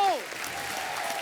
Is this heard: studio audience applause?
yes